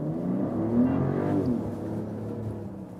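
A Mercedes GLE SUV engine rises in pitch as it accelerates, a steady smooth drone heard from inside the car with no voices.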